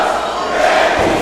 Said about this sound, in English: The crowd is chanting, Danny sucks.